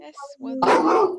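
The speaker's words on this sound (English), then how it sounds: "My dogs are having a little bit of a play in the background today" Pet dogs playing and barking in the background at home, one sharp bark burst rising over a voice, fairly close and loud after a brief yappy whine.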